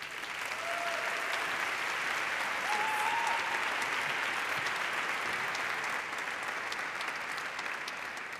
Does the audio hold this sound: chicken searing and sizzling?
no